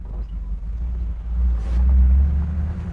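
A 1968 Ford Bronco engine idles close by with a steady, deep low rumble, swelling slightly louder around the middle before settling back.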